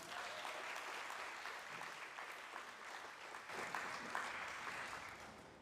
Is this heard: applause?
yes